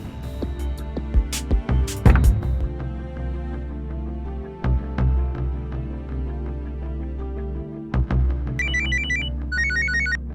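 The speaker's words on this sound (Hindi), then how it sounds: "ये कमल फोन क्यों नहीं उठा रहा है?" A telephone ringtone plays loudly and close, with a repeating electronic melody over a steady low hum, its tone-like notes returning in short phrases near the end; no one speaks.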